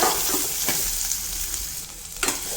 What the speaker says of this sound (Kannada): ಅದ್ರ ನೆಕ್ಸ್ಟು ಅದಕ್ಕೊಂದು ಈರುಳ್ಳಿನ ಸಣ್ಣದಾಗಿ ಹೆಚ್ಕೊಂಡು ಹಾಕ್ಕೊತಾ ಇದ್ದೀನಿ. ನೀಟಾಗಿ ಫ್ರೈ ಮಾಡ್ಕೊಳ್ಳೋದ.